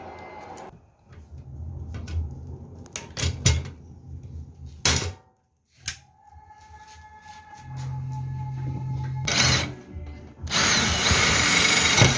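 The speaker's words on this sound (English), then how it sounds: "So let's rivet the first one, and then we can just correct it." A power tool sets rivets into the flap of a homemade camping table, with several short, sharp whirring bursts separated by pauses, some clicks and handling knocks, and a longer sustained run near the end.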